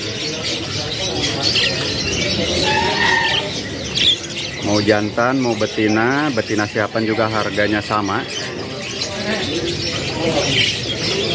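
Canaries chirp and trill among the stalls of the Pramuka bird market, a bright burst of song standing out midway, while someone talks close by over the busy market murmur.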